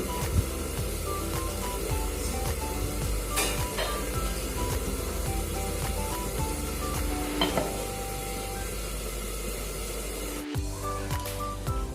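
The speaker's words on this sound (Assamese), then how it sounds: "এতিয়া এইখিনি মই গেছ কমাই ঢাকন মাৰি সিজিবলৈ ৰাখি দিম।" Covered pot of khar with tengra fish simmering on low gas, a constant close bubbling hiss with faint lid rattles and occasional clinks.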